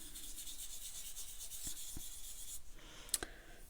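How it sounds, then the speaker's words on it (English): Soft pastel smeared by a fingertip across linen paper, a faint steady dry rubbing that runs continuously, with a couple of light taps and a sharper tick near the end. "If I rub that with my finger"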